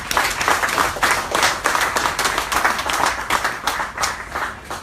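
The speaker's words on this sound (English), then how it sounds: "give all of them a round of applause" A crowd at a public political meeting claps steadily, dense rhythmic applause that carries on for several seconds at a fairly loud, even level, with no speech over it.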